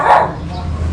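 Dogs bark at a house with concrete floors and a garage, a sharp close bark at the start followed by lower yips and whimpers that trail off.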